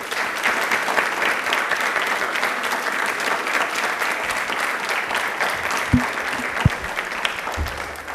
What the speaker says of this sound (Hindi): एक बार जोरदार तालियां हो जाएं for her